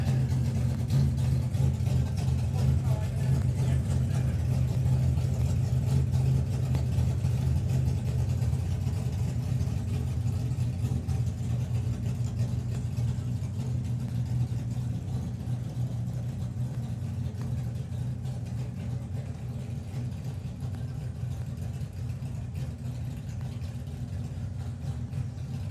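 A drag racing car's engine idles and rumbles steadily at a Nostalgia Nationals event, a continuous low drone at moderate distance with no speech.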